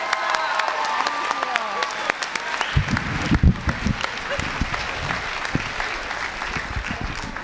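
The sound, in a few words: audience applause for the panel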